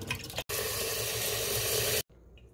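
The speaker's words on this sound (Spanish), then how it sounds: "Boto esa agua en que las enjagüé" Water used to rinse pig feet pours out in a steady, loud splashing rush for about a second and a half, then stops abruptly, in a home kitchen.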